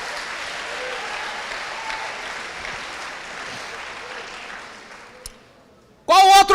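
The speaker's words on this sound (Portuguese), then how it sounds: "Diga aleluia e dê um aplauso para o Senhor aí, irmão" Church congregation applauding, a dense sustained wash of clapping from a large crowd that slowly fades out, with a short loud burst of a voice at the very end.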